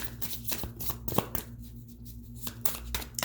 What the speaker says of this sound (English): If you don't like the card shuffling